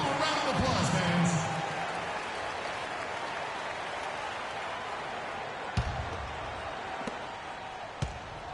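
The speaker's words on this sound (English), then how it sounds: "Give them a round of applause, fans." Arena crowd at a Dallas Mavericks basketball game against Houston applauds the Mavericks dancers, a steady, dense wash of clapping and crowd noise with a few sharp thumps near the end.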